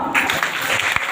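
A church congregation clapping hands together, a brief dense burst of many hands applauding at close range, with a faint voice underneath.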